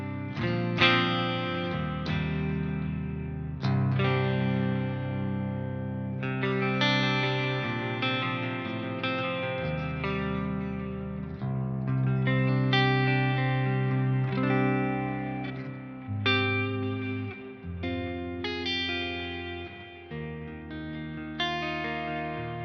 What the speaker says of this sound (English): Put on a little bit of reverb and delay.